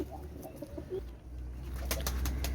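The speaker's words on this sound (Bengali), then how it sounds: "ভিউয়ার্স একজোড়া কাশুরি কবুতর দেখেন" A pair of young Pakistani Kashuri pigeons coo softly and briefly, fairly faint, against a low steady hum.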